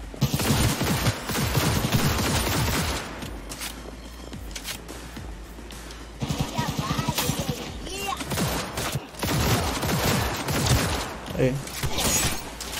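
Gunfire in the game Cyberpunk 2077 crackles in rapid bursts and volleys, loud and dense, with someone talking over the shooting at times.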